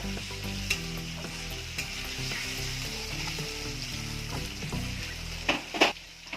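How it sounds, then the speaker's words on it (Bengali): Potato pieces frying in hot oil in a pan, a steady soft sizzle with occasional clinks and stirring scrapes, close up and without talk. "এই তেলের মধ্যে আলুগুলো ভেজে নেব।"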